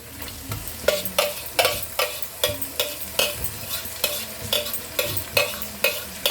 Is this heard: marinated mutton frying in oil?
yes